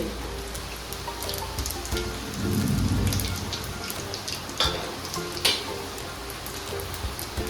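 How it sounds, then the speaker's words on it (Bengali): Whole cumin seeds are dropped into hot white oil for Gujarati-style pav bhaji and crackle in a close, steady sizzle that swells briefly, with a few sharp pops and no speech. "সাদা তেল গরম করে এবার দিয়ে দেবো গোটা জিরে"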